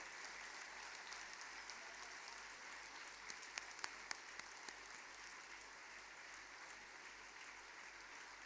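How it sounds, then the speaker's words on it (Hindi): A cultural programme audience claps at an afternoon event, a faint, steady wash of applause that runs throughout with a few sharper individual claps standing out near the middle. "उठिए जोर से और जोरदार तालियां बजाइए सबके लिए"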